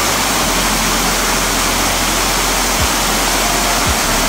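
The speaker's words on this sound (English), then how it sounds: "you can tell it's been raining by the flow of water that's coming over that fall" Rain-swollen waterfall pours over from a still lake, a loud steady broadband rush filling the scene with a couple of faint low bumps and no speech.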